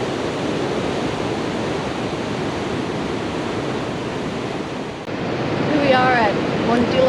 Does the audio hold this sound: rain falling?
no